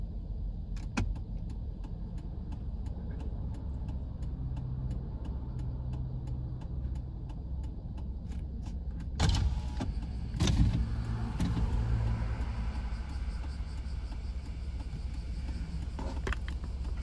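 A car idles and creeps along in light Sunday traffic on a Japanese country road, stopped at a red light before moving off, with a steady low engine and road rumble and a couple of brief louder bumps near the middle.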